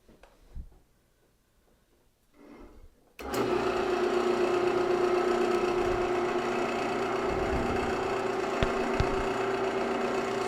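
Wood lathe spinning a turned box that wobbles on its mount, starting abruptly after a few quiet seconds into a steady motor hum and whir, with a couple of faint clicks, continuous and close.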